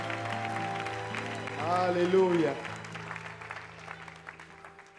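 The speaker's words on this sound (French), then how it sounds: "Est-ce qu'on peut donner des acclamations nourries au Seigneur?" A church congregation applauds and cheers at a seminar on tithing; the clapping stays steady under a voice that rises in an exultant call, then slowly fades.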